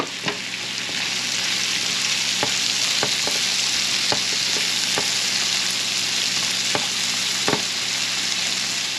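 Chanterelle mushrooms and apples sizzle steadily in a hot pan for a hash, a constant bright frying hiss with occasional scrape and stir clicks.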